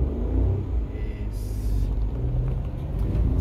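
Heard from inside a car during a parallel parking driving lesson, the engine hums low and steady, then picks up as the driver moves onto the accelerator; a brief higher whine passes midway.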